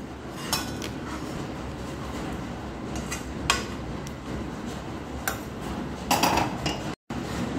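Light clinks of dishes and cutlery as wet coconut modak filling is moved into a dish, scattered taps and chinks over a steady low background.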